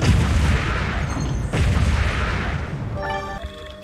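Loud, dense blasts and rumbling impacts from Wall World gameplay, a continuous barrage with a sharp hit near the middle, ending with bright chiming game tones.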